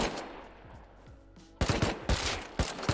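Video game shootout gunfire: a few faint distant shots, then loud rapid bursts of automatic fire in several close, sharp volleys.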